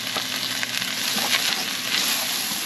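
Garlic, about a tablespoon, sizzling steadily in hot oil in a pan, a dense close crackle that runs without a break through the short stretch, no voices over it.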